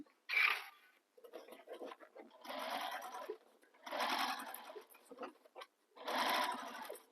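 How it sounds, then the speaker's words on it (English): A sewing machine stitches a fabric bag in a home sewing setup, sounding in several separate close bursts of rapid whirring with short quiet pauses between the runs and no talking. "So we're going to start sewing, and again, use that seam allowance given in the pattern"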